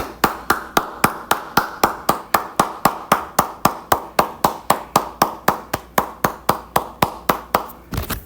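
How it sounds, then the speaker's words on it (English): Bare hands clap in a sharp, metronomic rhythm, about four claps a second. Each crisp, close slap is evenly spaced and equally loud, continuing without pause and with no voices over it. "Let's give this brother a round of applause, man."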